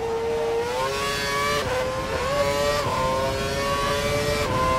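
A race car engine at full revs in a racing game, a loud, sustained high-pitched whine that climbs steadily and dips briefly at each gear change, about four shifts, with no talk.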